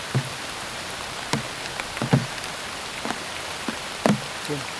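Heavy rain falling as a steady hiss of drops on surfaces, with scattered sharper taps and thuds over the constant wash, no talk.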